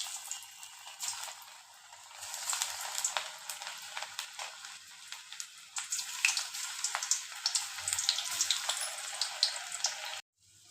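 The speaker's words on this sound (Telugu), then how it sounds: "సిమ్లో పెట్టుకొని ఇలా దోరగా వేయించుకొని ఒక బౌల్లోకి తీసేసుకుందాం." Battered cauliflower pieces for street-style gobi 65 deep-frying in hot oil, giving a close, steady crackling sizzle with scattered sharp pops that continues unbroken and then cuts off abruptly at the end.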